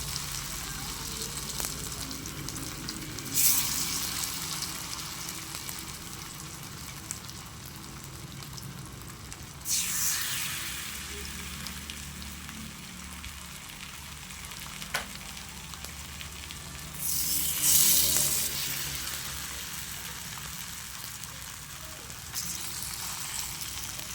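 Pieces of ash gourd sizzle and fry in hot oil on a griddle, a steady crackling hiss with louder bursts as more pieces drop in, quite close.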